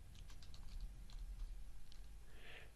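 Soft, quick keystrokes on a computer keyboard as a font name is entered in Photoshop, a short run of faint clicks close by.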